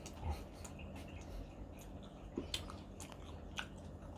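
Quiet chewing of a meal, with soft crunchy bites and a few sharper clicks scattered over a few seconds, close to the microphone and with no talk.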